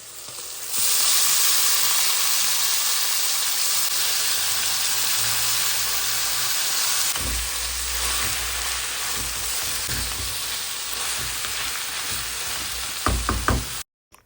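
Frozen bitter gourd (ustha) frying with shrimp in a pan, a loud steady sizzle that fills the scene for over ten seconds, a few stirring knocks near the end before it cuts off.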